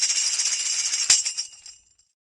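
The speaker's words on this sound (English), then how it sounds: "A tambourine sounds like this." A tambourine shaken in a continuous jingling shimmer of bright metal zils, then one sharp hit on the head followed by the jingles ringing out and fading, close and alone.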